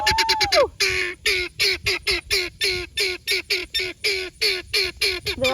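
A duck sitting on a nest shared with guinea fowl quacks loudly and close by in a steady, rapid series of about twenty harsh calls. Nothing else is heard.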